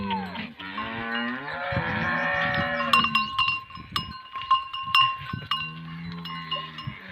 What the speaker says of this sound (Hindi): ये देखें, क्या है? भैंस है।